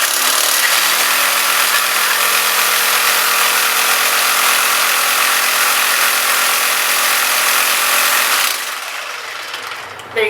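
A Makita reciprocating saw used as a cocktail shaker for whiskey sours in a workshop runs loud and steady, with a dense buzzing rattle for about eight seconds before cutting off abruptly.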